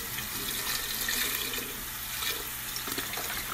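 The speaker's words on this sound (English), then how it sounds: "you're adding chicken stock next" Chicken stock pours into a stew pot of Guinness and beef stew, a steady splashing liquid stream running continuously for a few seconds with no talk.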